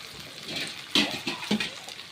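Spices hit a hot pan in a home kitchen, giving a steady hissing sizzle broken by a few louder crackling bursts, close and fairly quiet, with no talking.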